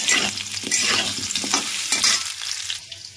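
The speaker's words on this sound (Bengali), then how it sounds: "আমার লাল লাল করে আলুটা ভাজা হয়ে গেছে" Potatoes frying in oil in a pan, cooked until reddish-brown, with a steady broadband sizzle and intermittent stirring scrapes and clinks close by, no voices.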